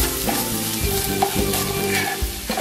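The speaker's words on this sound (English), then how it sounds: "I'll incorporate that through the onion zucchini mixture" Onion and zucchini mixture stirred in a frying pan with a pasta-sauce ingredient being worked through, giving a steady close scraping and sizzling with repeated stir strokes, no voices.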